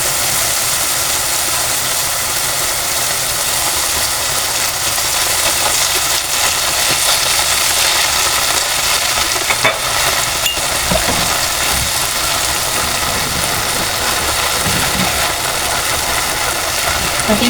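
Fried galunggong fish goes into a pan of sauce and sizzles with a loud, dense, continuous hiss and crackle, close up, with faint scraping now and then.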